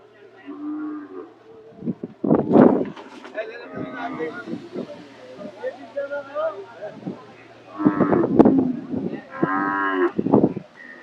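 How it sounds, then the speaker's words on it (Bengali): Several cattle at a busy cow market on a sunny, windy day give loud, drawn-out moos, one early and a longer cluster near the end, over a low background murmur. "এই যে সুন্দর সুন্দর ছোট গরু"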